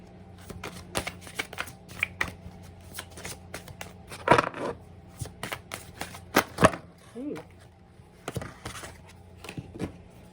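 Oracle cards are shuffled by hand in several short riffling, slapping bursts spread across about ten seconds, close and fairly crisp, with quiet gaps between the bursts.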